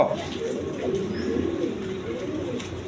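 Pigeons coo continuously at a Bangladeshi bird market, including Ghorra breed birds, with soft low throaty calls overlapping in a steady near murmur and no speech.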